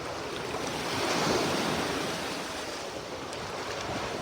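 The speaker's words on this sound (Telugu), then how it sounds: "పెద్ద పెద్ద వేవ్స్ వచ్చినాయి." Big ocean waves break and wash up a beach in a broad, continuous roar, swelling to a peak midway and then easing back under steady wind.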